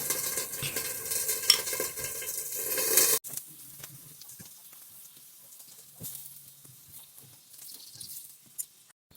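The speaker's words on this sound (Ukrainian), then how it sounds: "Все добре перемішую." Food being stirred in a pan, scraping and clinking softly over a sizzling hiss that is louder at first, then quieter, irregular scraping.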